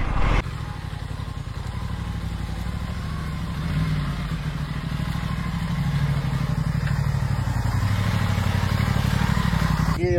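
An Aprilia RS 457 sports motorcycle engine runs off-road near Bandorchalia, Titabar, Jorhat, with a steady, throbbing low drone that swells slightly midway and stays close and loud throughout.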